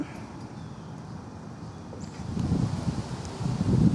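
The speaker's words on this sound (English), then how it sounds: "And it is windy and wet today." Steady outdoor wind noise with rustling, growing louder and gustier toward the end, with no speech.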